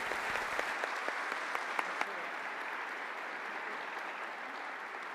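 Dense audience applause fills an auditorium at a cybersecurity and digital awareness event, with a few sharper individual claps standing out early on before it settles into a steady, even wash.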